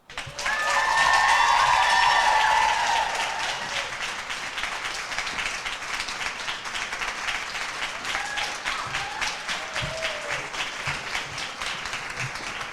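An audience applauds a speaker, opening with a loud swell of clapping that settles into steady, sustained applause for the rest of the stretch.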